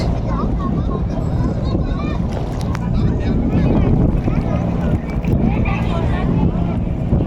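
A passenger launch boat passes on the Ganges river, its steady engine drone and water wash running continuously under wind buffeting on the microphone, with voices talking over it.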